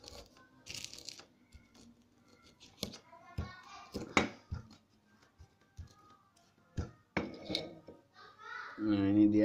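Mashed anchovies and tofu get mixed for teri penyet, with scattered scraping and clinking knocks of utensil against a dish at close range, broken by pauses and soft talk, ending in a louder burst of noise.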